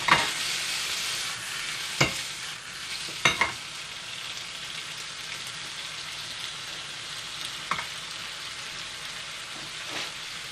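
Bacon fries in a pan as a steady, close sizzle and crackle, broken by a few sharp pops and utensil clicks at scattered moments, with no talking.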